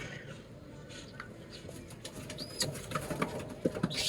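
Racing pigeons cooing at close range, soft repeated low coos over a quiet room tone with faint rustling and a few sharp knocks toward the end.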